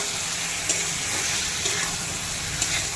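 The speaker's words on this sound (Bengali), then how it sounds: "মোটামুটি কষা হয়ে গেছে, আর একটু কষিয়ে নেবো তাহলে আমার এই রান্নাটা" Chicken masala curry frying in a pan, village-style dhaba cooking, with a steady close sizzle and faint stirring scrapes throughout, no voices.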